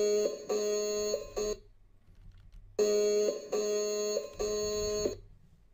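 Electronic door alarm in a uScript video game prototype, a harsh buzzing tone in repeated pulses: two bursts, a quiet pause, then three more, loud and clear.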